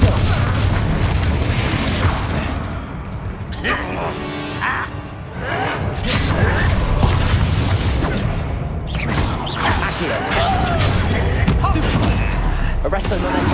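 Confringo spells blast amid combat in the game Hogwarts Legacy, a loud, continuous clatter of explosive bursts, creaks and mechanical rattles with little pause.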